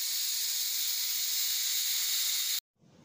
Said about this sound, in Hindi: अब हम इसकी गैस निकाल रहे हैं। गैस निकल जाएगी तो फिर हम कुकर खोलेंगे।